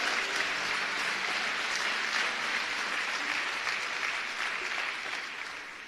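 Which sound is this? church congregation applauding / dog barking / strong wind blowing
church congregation applauding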